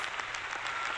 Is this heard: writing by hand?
no